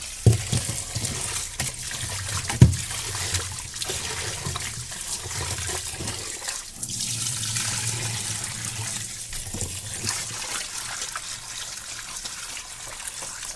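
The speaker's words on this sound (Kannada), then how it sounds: "ಈಗ ನೋಡಿ ಹೀಗೆ ಮಾಡಿ ಸ್ವಲ್ಪ ನೀರು ಹಾಕ್ಬೋದು" Water poured into a pot of Mangalorean fish curry, a steady running, splashing pour that carries on for most of the stretch at close range, with a couple of sharp knocks near the start.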